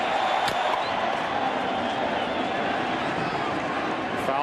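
A baseball stadium crowd at a World Series game cheers steadily for a curtain call after a home run, a loud, dense roar with clapping that holds without pause throughout.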